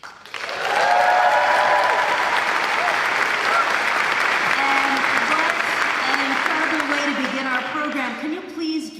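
Sustained audience applause fills a hall at the Kimmel Center's Marian Anderson Hall during an honors event, dense and loud, swelling quickly and holding steady for several seconds with faint voices beneath.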